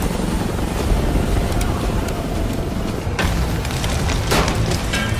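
A helicopter lifts off in the video game Call of Duty Black Ops 6, its rotor roar loud and steady with rumbling engine wash, sharp thumps and bursts of noise breaking through.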